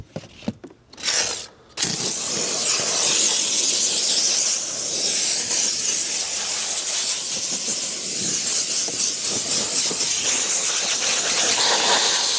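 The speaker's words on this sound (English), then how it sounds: "I use my steamer as almost an air compressor" A steam cleaner blowing steam inside the interior of a car during detailing, a few short bursts and then a loud steady hiss that runs on for seconds.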